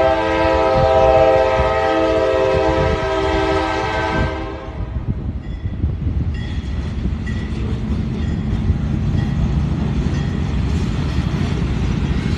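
A loud train passes close by near an estate auction in Pembroke, Georgia, opening with a long sustained horn blast that cuts off around four seconds, then heavy rumbling wheels and rail clatter continuing steadily.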